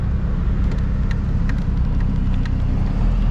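A small 50-year-old open-top classic car on Route 66 rumbles steadily up close, its exhaust a continuous low drone with faint intermittent ticks above it.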